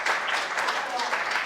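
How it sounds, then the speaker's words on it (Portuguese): An audience at a cybercrime awareness talk gives a brief, moderately loud round of clapping that holds steady through the short stretch. "E uma salva de palmas."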